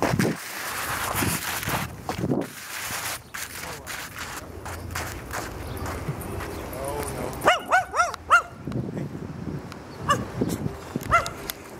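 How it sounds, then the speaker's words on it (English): A dog in Central Park, among busy outdoor noise and people talking: its barks and yips come in a short cluster partway through, moderately loud and close. "The dog was not okay with me sliding down the hill."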